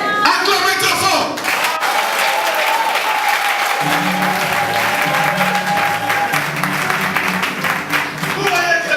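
A church congregation at a convention applauds loudly and steadily for several seconds, a dense wash of clapping with voices and music underneath.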